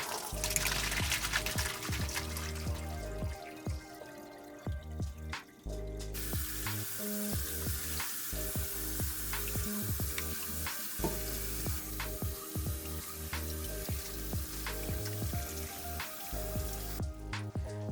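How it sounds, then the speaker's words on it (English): Cooked noodles are drained, bringing a steady rushing pour of water with a hiss like sizzling, broken by knocks and clunks from a pot and sink throughout. Partway through the rush briefly drops away and then returns. "So we're going to drain the noodles."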